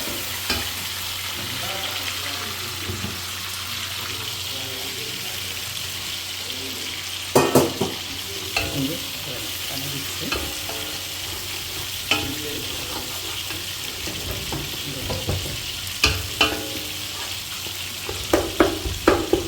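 Fish curry masala fries in a pan with a continuous sizzling hiss, while a spoon scrapes and clinks against the metal at irregular moments, growing busier toward the end.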